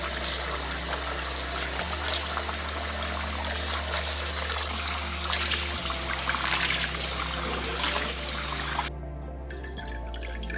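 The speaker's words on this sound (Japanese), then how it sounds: "ぬるま湯で色が出なくなるまで優しくすすぎ洗いをします。" Hand-dyed sock yarn rinsed gently in lukewarm water, with a continuous close trickle and splash of moving water over a low hum, easing off toward the end.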